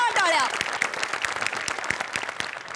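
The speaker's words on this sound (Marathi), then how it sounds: "जोरदार टाळ्या." Audience applause at a Marathi comedy stage show, steady dense clapping from a studio crowd filling the whole stretch, starting over a brief bit of music and carrying on evenly to the end.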